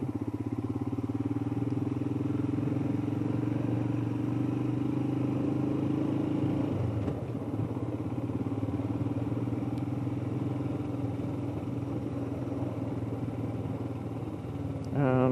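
Motorcycle riding along a country lane, its engine giving a steady, mid-pitched drone that holds evenly throughout with a slight shift midway and a faint clatter near the end.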